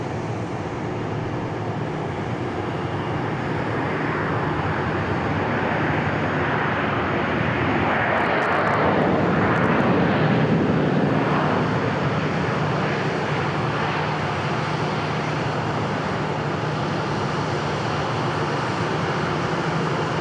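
A Boeing 737 airliner arriving from Phoenix at Dallas Love Field, its engines a steady broadband roar that swells slightly around the midpoint as it passes, continuous throughout with no talk.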